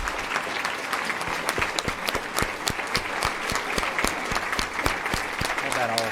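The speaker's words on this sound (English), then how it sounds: "Would you please stand so we can applaud you?" An audience at a formal school district board meeting applauds honorees standing in the room, with sustained rhythmic clapping from many hands and some voices mixed in underneath.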